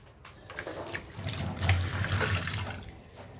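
Tap water runs steadily into a sink while raw chicken is washed, a close splashing and gushing stream that swells midway, with no talk.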